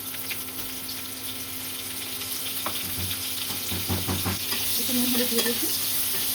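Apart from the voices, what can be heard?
cauliflower and beans frying in hot mustard oil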